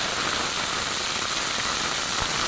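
Ground mustard spice paste sizzling in hot oil with bay leaf and cumin for shorshe ilish, a dense, steady hiss and crackle that stays loud and even throughout with no voices.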